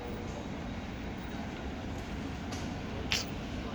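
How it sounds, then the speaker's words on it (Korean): A train rumbles in at an underground platform in Zurich, Switzerland, a steady low roar with faint squeals and a brief brake screech near the end. "기차가 왔습니다"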